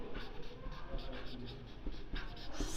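A pen writing on paper during a simple interest math lesson, with close, repeated short scratching strokes in an uneven rhythm and no speech over them.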